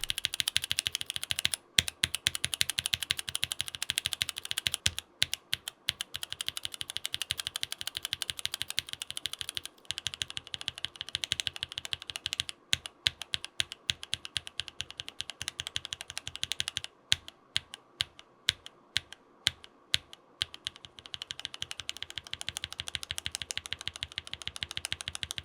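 Kinetic Labs Husky switches on a mechanical keyboard clack through a long stretch of steady typing, crisp, fairly quiet keystrokes in quick bursts with brief pauses, heard alone up close.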